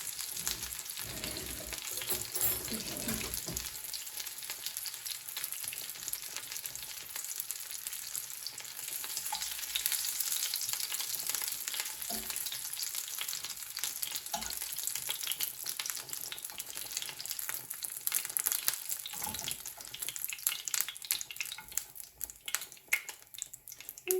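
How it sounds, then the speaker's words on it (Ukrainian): Pieces of liver fry in a pan with a steady, busy sizzle and fine spitting crackle, close and moderate in level, running on without speech for the whole stretch. "Так, жаримо слідуючу партію."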